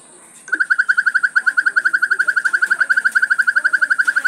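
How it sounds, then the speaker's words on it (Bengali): A phone's anti-theft alarm sets off the moment its charger cable is pulled: a loud, rapid electronic chirping siren pulsing steadily at close range, with no talk. "শুনতে পাচ্ছেন যে অ্যালার্ম বাজতে শুরু করে দিয়েছে"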